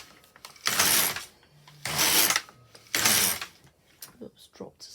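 An LK150 knitting machine carriage is pushed across a row of needles three times, each pass a loud, rasping mechanical slide lasting under a second, separated by quieter gaps with light handling clicks.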